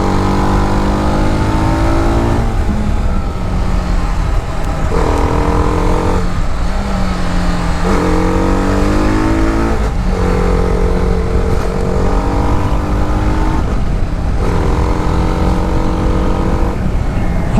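A 2025 TVS Apache RR310 300cc sports motorcycle roars loudly and continuously while being ridden, its engine rising and falling through repeated rev climbs and gear changes, with steady wind rush and no talk.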